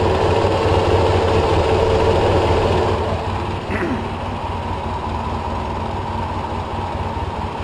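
A Polaris 700 engine idles steadily with its cooling fan whirring, a constant broadband mechanical drone that eases slightly in level partway through, with a faint creak near the middle and no talking.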